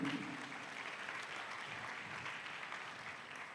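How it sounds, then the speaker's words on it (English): Audience clapping steadily at a university conference closing, a continuous, fairly faint wash of applause with no pauses. "Let's clap for Bonnie."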